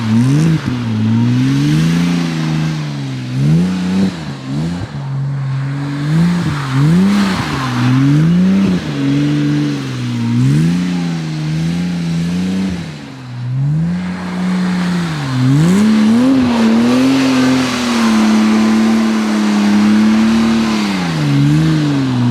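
A Porsche Cayman sweeps past with its engine note climbing and falling through revs, loud and close across the pass with a steady throaty drone and no talking.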